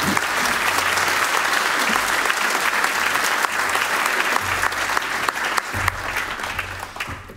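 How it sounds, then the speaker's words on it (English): Warm audience applause at a public debate event on Europe and war, a dense, steady clapping from a large crowd that carries on throughout and tapers slightly at the end. "A warm applause to Frans Timmermans."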